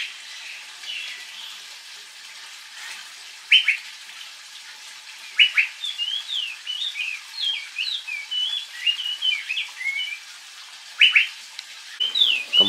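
An Asian fairy-bluebird (cucak biru) calls repeatedly with sharp, bright whistles and quick chirping phrases, clear and fairly close, in an aviary against a quiet background.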